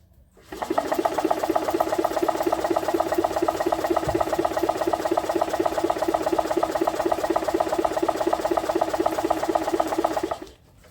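A Honda Z360 kei car engine cranks on its starter in one continuous, rapid, rhythmic churning run of about ten seconds, close and steady, then stops abruptly, with no talking.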